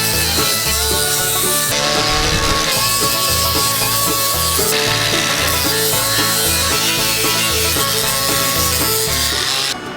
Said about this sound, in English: I'm gonna use this 4-inch grinder with a sanding disc on it.